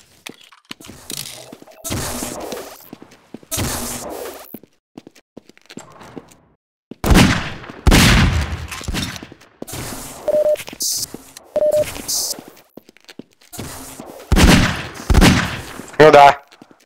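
Magnum revolver shots in Half-Life 2: Deathmatch on the aim_arena map, several sharp loud cracks spaced irregularly between stretches of silence and quieter game sounds.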